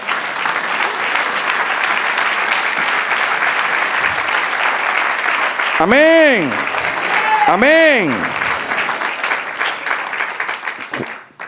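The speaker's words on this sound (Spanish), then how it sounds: "Denle un aplauso al Señor" Congregation applause at a church service, steady broadband clapping throughout, with a voice calling out briefly over it twice.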